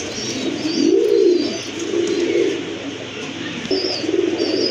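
Colorful pigeons at a wholesale pigeon market coo in low, repeated rolling phrases nearby, with faint chirps and a steady background hum.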